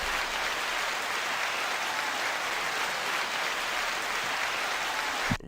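Sustained applause from a crowd, a dense, even wash of clapping throughout, ending in a brief thump.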